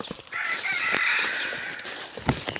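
Chickens on a poultry-breeding farm cluck and crow steadily close by, with one brief louder call near the end and no talking.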